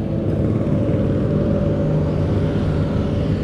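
Motorcycles pass along a street in Brunei, a loud continuous low engine rumble that holds steady without a break and has no voices over it.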